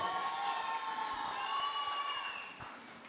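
A live audience at a stage contest applauds and cheers for a competing couple, with faint claps under whoops and raised voices, fairly distant and quiet and fading at the end.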